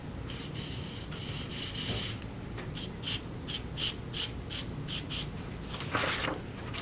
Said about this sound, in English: Spray in some glue.